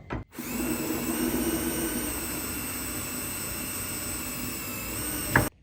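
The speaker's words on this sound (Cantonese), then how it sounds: "依家就可以用呢個模具打窿" A power drill bores holes in a wooden acoustic guitar neck through a jig, a steady whining motor hum held for about five seconds, starting and stopping abruptly, with no talking.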